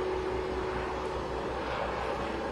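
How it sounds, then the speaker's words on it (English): A skateboarder rolls through an alleyway beside a parking garage, a continuous loud, echoing roar of wheels that sounds almost like a jet engine, steady throughout with no pauses. "That sound is a skateboarder"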